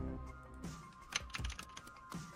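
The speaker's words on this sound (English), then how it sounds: "I'm sorry if you didn't hear my keyboard." A computer keyboard clacks in quick irregular bursts of keystrokes, close and fairly soft, with no voices over it.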